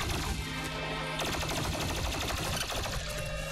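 In the Doom Eternal video game on Nightmare mode, rapid automatic gunfire rattles away in a dense, loud, continuous burst over a busy mix of game music and effects.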